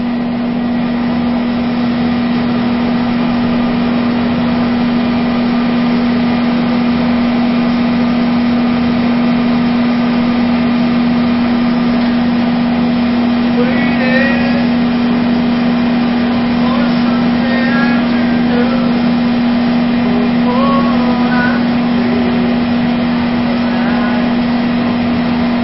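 A motorcycle engine runs at a steady idle during a fuel-consumption test, a constant droning hum that holds evenly for the whole stretch without revving, close to the microphone with faint background noise.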